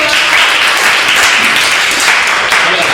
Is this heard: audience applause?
yes